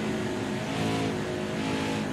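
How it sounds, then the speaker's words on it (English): A stock race car roars around the Iowa oval in NASCAR Heat 5, its engine a loud, steady, close drone with layered harmonics as other cars run alongside. "Got a car coming high now."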